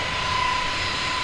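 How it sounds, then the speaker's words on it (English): Airliner jet engines from an A320neo roaring at takeoff out of Manchester in Microsoft Flight Simulator, a steady, dense, loud broadband rush with a thin constant whine riding on top, no voices. "Listen to them engines, bloody hell."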